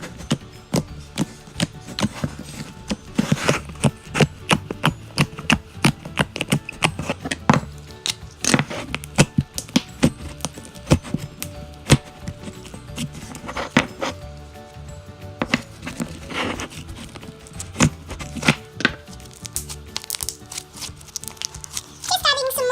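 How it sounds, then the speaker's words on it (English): Squishy, sticky squelches and wet pops from fluffy slime being played with repeat irregularly and close up, with a person talking intermittently over them. "if you're hearing these noises, it's just me playing with slime."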